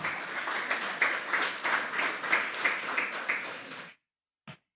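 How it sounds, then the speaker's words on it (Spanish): Steady applause from a church congregation during a Spanish-language sermon, a dense, even wash of many hands clapping with a loose rhythm, cutting off abruptly into silence with one faint tap at the end. "dale una ofrenda de palmas al Señor"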